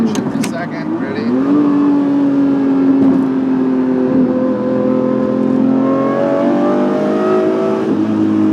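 A Lamborghini engine revs hard through a downshift, its steady roar swelling in pitch as the revs climb and then holding a loud, continuous drone from inside the car.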